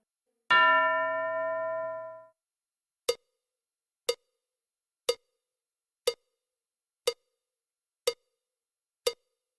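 A bell in a children's classroom lesson rings with a long, bright, ringing tone that fades over about two seconds. Seven short, sharp taps follow at steady one-second intervals, with no voices.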